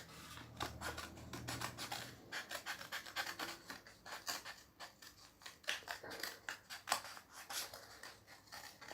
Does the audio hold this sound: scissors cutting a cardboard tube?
yes